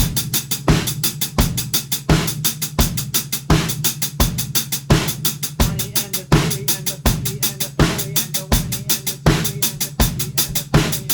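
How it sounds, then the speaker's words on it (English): A drum kit plays an even 16th-note hi-hat groove over a four-on-the-floor kick drum in a dance-beat pattern, steady and up close, with no talking over it. "One variation on this groove is you can play 4 on the floor on the kick drum, like a dance beat."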